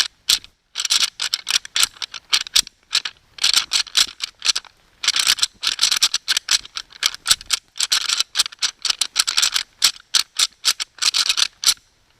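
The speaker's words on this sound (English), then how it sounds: "Gonna do a little calling. I got the little can and the rattle bag with." A deer hunting rattle bag worked for calling, giving bursts of dry clattering clicks in an uneven, repeated rhythm, close and fairly loud with short pauses between shakes, and no talking.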